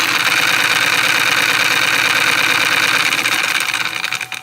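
Two magnetic flywheels set with blue north and south magnets at 90-degree angles spin fast in opposite directions, giving a loud, steady mechanical whir and hum that holds evenly and then starts to waver and fade near the end.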